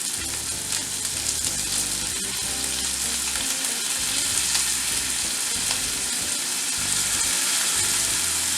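Four cloves' worth of garlic fry in sesame oil, a loud, close, continuous sizzle with occasional stirring scrapes.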